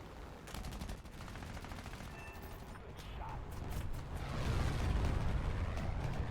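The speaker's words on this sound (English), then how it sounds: "I'm just gonna drop like 18 fucking bombs and see what happens" Bombs released from a bomber plane in War Thunder explode in a continuous rumbling barrage of blasts and crackling debris, growing louder and heavier toward the end, with no talking.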